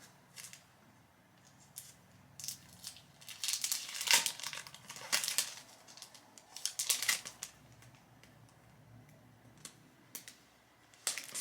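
Plastic packaging being opened and unwrapped by hand, giving irregular crinkling and crackling bursts, close and fairly quiet, with brief pauses between handling.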